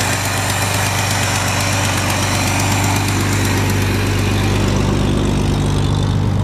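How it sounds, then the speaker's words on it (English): A 1985 Holden VK Commodore wagon engine idling smoothly and steadily, a loud, close, even rumble with a low throb and no misses, heard alone throughout. "The motor itself just idles absolutely beautiful"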